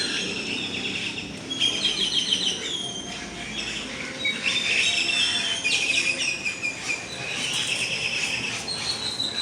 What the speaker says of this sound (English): Around 6:30 is when the birds get together and talk about their day.